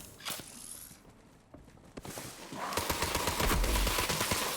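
Bursts of rapid automatic gunfire from an Atlas gun in Borderlands 3, with mechanical clicks, growing louder and denser in the second half, mixed with game effects.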